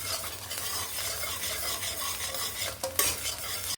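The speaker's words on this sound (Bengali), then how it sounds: "রসুনটাকে আমি রোস্ট করে নিব হালকা বাদামি কালার" Chopped garlic fried in hot oil until light brown, a steady close sizzle with continuous stirring and scraping, plus a sharper clink near the end.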